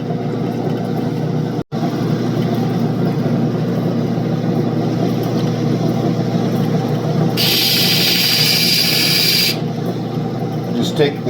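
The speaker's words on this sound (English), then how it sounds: "We're ready for the pre-polish wheel." Steady whir of a pre-polish wheel working an opal to take scratches off its outer edge, a continuous machine drone with a brief dropout early and a bright hiss building midway, with voices talking over it.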